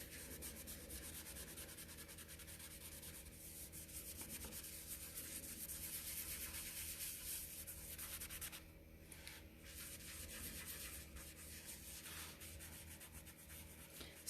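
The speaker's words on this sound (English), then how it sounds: "So I'm going to keep on polishing this" Steady dry rubbing of a cloth polishing wax into a furniture plaque decorated with IOD molds, transfers and white glaze, a continuous close swishing that dips briefly partway through, with no talk.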